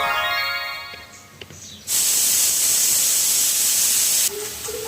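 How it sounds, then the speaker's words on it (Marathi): A pressure cooker vents steam in a loud, steady hiss lasting a couple of seconds, then stops abruptly, with softer kitchen sounds before and after. "शिट्टी व्हायची वाट पाहते पण हवा गेली त्याची"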